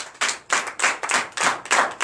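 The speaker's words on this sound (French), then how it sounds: "Donnez l'acclamation à notre Seigneur Jésus." A church congregation at a Sunday service in Benin claps in steady rhythmic bursts of hand claps, loud and close, with no talk.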